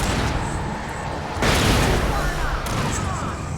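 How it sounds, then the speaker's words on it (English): Flashbang grenade going off in the video game Alan Wake, a sudden loud burst that swells into a broad, rushing roar and then fades back into busy combat noise, with a voice heard during the noise. "Flashbang out."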